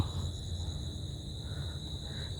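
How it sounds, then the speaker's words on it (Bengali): Crickets beside a railway line in the afternoon give a thin, steady high-pitched trill, faint and continuous over low outdoor background noise. "এই জায়গার কেমন না একটু ঝিঝি পোকার ডাক"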